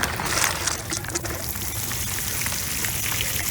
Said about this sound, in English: this is nice soft potting soil, and I'm going to add water